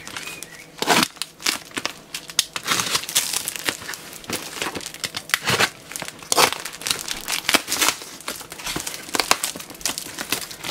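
Knife working through a heavily taped mail package, a dense run of crinkling, tearing and crackling close by, with irregular sharp rips throughout and no talk.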